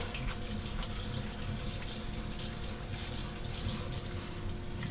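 Cold tap water runs steadily into a sink while Korean cold noodles are rinsed, a constant close hiss and splash with no pauses or talk.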